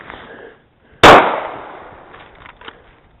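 A single loud handgun shot at a steel pepper popper target, a sharp crack followed by a fading ringing tail and a couple of faint knocks afterward.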